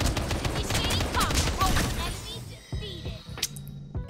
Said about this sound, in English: So I see some gunshots on my screen here.